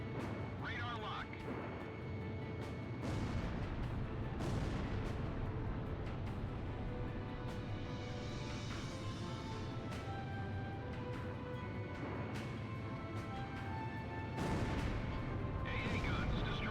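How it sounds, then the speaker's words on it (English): Sustained anti-aircraft gunfire and artillery booms in the flight combat game Ace Combat Zero: The Belkan War, a dense continuous barrage with engine drone beneath and radio voices talking over it. "You expect us to get through this anti-aircraft fire?"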